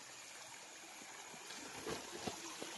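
A small stream runs at night during crab catching by torchlight, its water a low, steady trickle with soft splashes and knocks, quiet and close.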